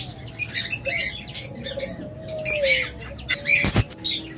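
Pair of lovebirds in a cage chirping and squawking repeatedly in quick, irregular bursts, close and fairly loud, with a steady low hum underneath.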